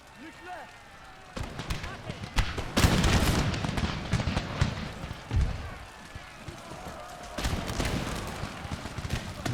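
Musket volleys crack out in Empire Total War as repeated loud, sharp bursts of gunfire, some ragged and overlapping, rolling across a noisy battlefield with a voice talking now and then.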